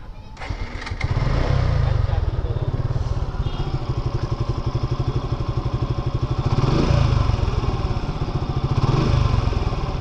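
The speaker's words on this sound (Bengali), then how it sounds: "বাইকের ইঞ্জিনের সাউন্ডটা আপনাদের একটু শোনাই।" A 2023 Suzuki Gixxer Monotone motorcycle that is nearly new starts up and runs close by with a loud, fast, steady thumping idle, and the revs rise briefly a couple of times.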